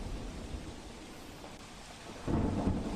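Heavy monsoon rain pours down with deep rolling thunder during a downpour in Kutch, Gujarat. A steady wash of rain runs throughout, and a louder rumble swells near the end.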